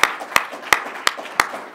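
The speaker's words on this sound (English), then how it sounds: "I'm just gonna give one last final applause for our second half speakers" A few evenly spaced hand claps, about five sharp slaps in a slow steady rhythm, close and fairly loud with nothing else.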